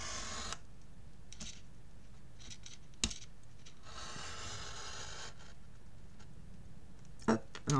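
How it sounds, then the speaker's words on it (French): A cutter knife draws along a ruler through paper, giving a close, quiet scratching slice that runs for about a second and repeats in short strokes amid faint handling sounds. "je vais donc couper mon papier sur 13 cm"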